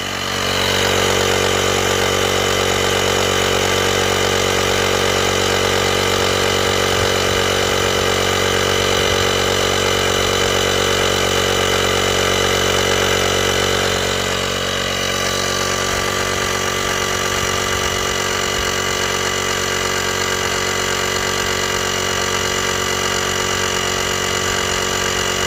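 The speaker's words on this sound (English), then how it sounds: "that was it kicking into the high pressure pump." An electric pump inflates a budget dinghy, switching into its high-pressure stage. A loud, steady motor drone runs throughout with no talk, its tone shifting and settling about halfway through.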